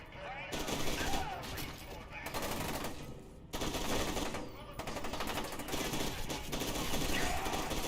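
Sustained automatic gunfire in F.E.A.R. 2, loud rapid bursts with brief pauses between volleys, mixed with game ambience and occasional voices.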